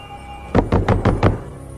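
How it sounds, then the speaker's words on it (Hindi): Five quick knocks on a door in a Hindi-dubbed Hollywood movie scene, evenly spaced and loud, with no talking. "दरवाजा खोलो पीटर"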